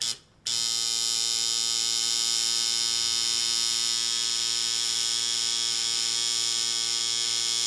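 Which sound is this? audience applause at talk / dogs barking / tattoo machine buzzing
tattoo machine buzzing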